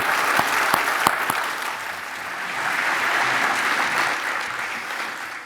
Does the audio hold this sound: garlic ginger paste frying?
no